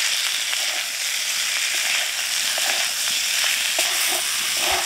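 Cashew paste and poppy seed paste, with green chillies and turmeric, stirred in a hot pan for a spiny gourd dish; a constant loud sizzling hiss with faint scraping taps from the spoon.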